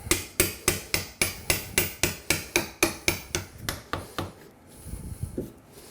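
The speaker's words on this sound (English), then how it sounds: "The hardboard panel doesn't work as nice as wood. I would suggest using a hammer here." A hardboard door panel is struck with a hammer while a new door is installed in an old space: about fourteen sharp, evenly spaced blows close by, then a softer scraping and knocking as the hammering stops.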